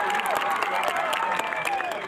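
An audience at a Bihu function claps steadily through the whole moment, a dense, even wash of applause close and loud, with a voice and crowd murmur mixed underneath.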